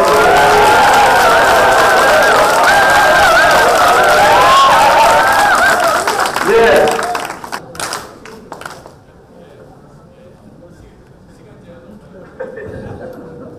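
An audience at a Busan party workshop for newly elected officials gives loud, dense applause for about seven seconds, then it quickly dies away to a quiet hall with scattered faint sounds.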